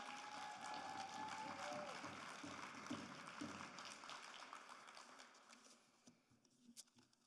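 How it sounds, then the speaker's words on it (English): A convention audience claps for new board members in a dense burst that gradually thins and fades, leaving a few scattered claps near the end. "Let's give our brand new board members another round of applause."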